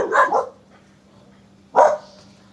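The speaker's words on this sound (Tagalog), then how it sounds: "Tingnan mo, muntik pa tayong kagatin ng aso." A dog barking nearby outdoors, two sharp separate barks a little over a second apart, loud and close, with quiet between.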